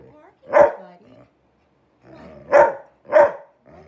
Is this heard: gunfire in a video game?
no